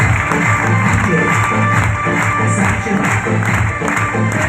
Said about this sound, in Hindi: अपनी जगह पे एक बार अपनी जगह खड़े होकर जोरदार तालियां हो जाएंगी